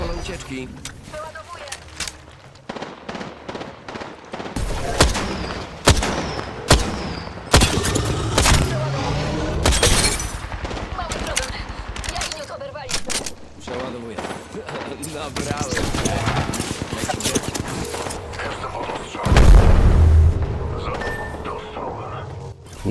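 Rapid bursts of gunfire and sharp cracks rattle through an Apex Legends match, dense and loud with brief pauses and a heavy boom near the end, while someone talks over much of the action.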